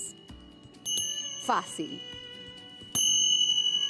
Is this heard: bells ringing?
yes